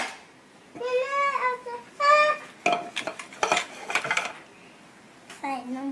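Plates and cutlery clinking and clattering close by in a home kitchen as dishes are set out, a few sharp knocks and ringing scrapes amid bursts of a voice and other talk.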